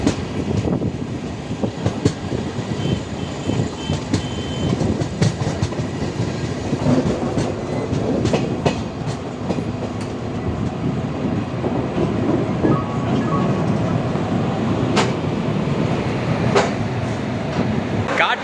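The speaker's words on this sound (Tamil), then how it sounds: "இப்போ வரைக்கும் பார்த்தீங்கன்னா வண்டி செம்ம ஸ்பீடில் போயிட்டுருக்கு." A Shatabdi Express races along the rails between Chennai and Bangalore, heard from inside the coach. The loud, steady rumble carries a continuous rhythmic clatter of wheels over rail joints.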